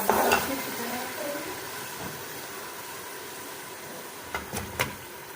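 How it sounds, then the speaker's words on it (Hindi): Masala and chicken are fried in oil for an arvi gosht dish, a soft, continuous sizzle with a few sharp utensil clinks near the end. "अब हम इसे ज़रा सा थोड़ा सा भूनेंगे ज़रा सा, ताकि इसका ज़रा चिकन का जो है वो कलर चेंज हो जाए"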